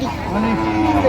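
A cow with a calf at a busy village cattle market lows briefly, a low drawn-out moo under a constant murmur of crowd noise.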